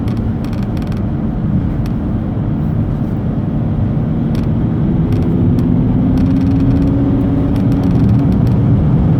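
BMW X5 E70 SUV engine in sport mode drops a gear, a steady loud interior drone with a rising harmonic as revs climb, continuous with a few faint clicks and no talking.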